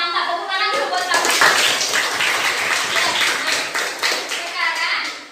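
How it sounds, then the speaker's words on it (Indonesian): Pupils in a classroom applaud a student, a lively burst of many small hands clapping briskly after a brief moment of speech, continuing steadily until it trails off. "Tepuk tangan dulu buat kamu"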